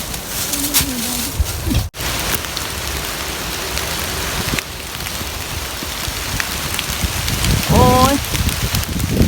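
Rain patters steadily on leaves and the ground while porcini mushrooms are gathered outdoors in a wet forest, with a bird cooing briefly near the end.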